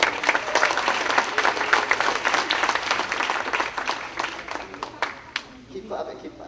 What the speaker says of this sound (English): Keep clapping, keep clapping.